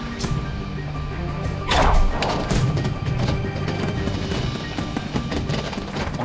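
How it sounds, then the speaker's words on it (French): Large-calibre firework candles bursting over a river during a musical pyrotechnic show, a loud thudding crash near two seconds rising out of dense, continuous crackle and rumble from other shells. "Ces chandelles de gros calibre viennent se poser sur l'eau."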